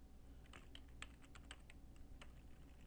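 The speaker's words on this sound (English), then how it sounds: "So let me type that in." A computer keyboard being used to type a password: about a dozen faint, quick key clicks in an uneven rhythm over a low background hum.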